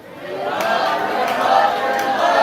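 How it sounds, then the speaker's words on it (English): A live poetry-night crowd shouts, cheers and chatters while building noise for the next poet, a rising, sustained roar of voices at close range. "Start making noise. Start clapping. Start building energy for Tony."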